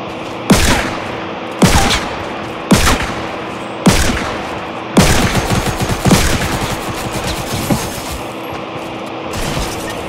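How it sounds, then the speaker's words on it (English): Gunfire in the video game Fortnite: a string of sharp, loud shots at irregular intervals, then a dense stretch of rapid automatic fire before it thins out into a few scattered bursts. "I heard shooting"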